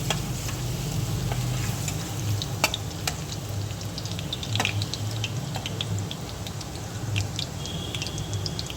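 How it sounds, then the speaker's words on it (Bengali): Chopped garlic frying in hot oil for a pasta dish, a steady dense sizzle close by with scattered pops, spits and spoon clicks against the pan, continuous for several seconds without speech. "আমি এতে এবার দিয়ে দেবো রসুন কুচি। রসুনটাকে জাস্ট একটু আমি লাল লাল করে একটু ভেজে নেব"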